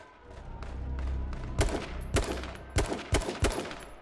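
Bursts of rifle fire in a battle royale shooter game, several sharp cracks in an irregular series after a low rumbling lead-in, fairly close and clear with no talking over them.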